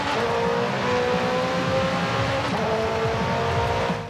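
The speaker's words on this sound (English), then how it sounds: "let's go ahead and let you have a listen to how this thing sounds" A Vorsteiner-kitted McLaren 620R in Forza Horizon 5 roars steadily at high revs, a loud, dense engine note sustained throughout with faint shifts in pitch.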